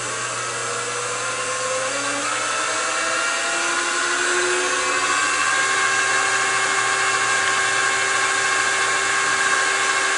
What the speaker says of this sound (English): I'm going to be climb milling, but that's okay, because I'm going to take super small passes